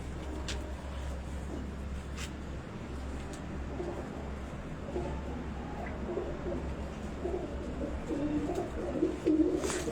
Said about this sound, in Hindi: उस्ताद हमीद के घर के चीने कबूतर